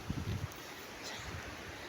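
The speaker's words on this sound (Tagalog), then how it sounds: "Mahangin kasi" Wind gusting across an open seaside road high above the water, a steady broadband rush with stronger low buffeting at the start, moderately quiet and heard alone.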